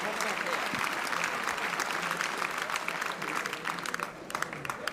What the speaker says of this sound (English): a round of applause for Paddy Leary, our winner here tonight in